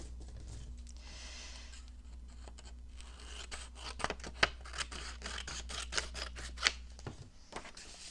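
Scissors snip through paper for a collage journal, close and quiet, with a series of short crisp cuts and light paper rustling over a low steady hum.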